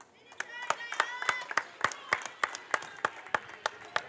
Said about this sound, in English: Jeremiah Brantley comes out to an ovation from the crowd